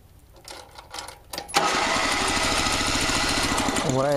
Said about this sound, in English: I just can't get it to turn over.